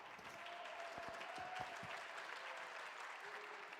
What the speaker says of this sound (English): The crowd happy with their performance there